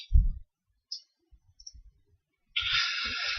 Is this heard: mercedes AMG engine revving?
no